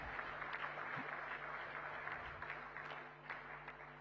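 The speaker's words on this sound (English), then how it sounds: "give him a big, big round of applause to express our gratitude" A room of attendees at the Indo-American Chamber of Commerce national convention gives a round of applause, moderately distant and steady, fading slightly toward the close.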